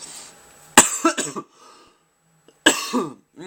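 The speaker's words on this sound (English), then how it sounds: "I have a bad cough today" Two harsh coughs from a bad cough, about two seconds apart, each a sharp burst trailing into rasping, up close in an otherwise quiet room.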